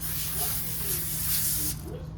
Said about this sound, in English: I always spray my pan.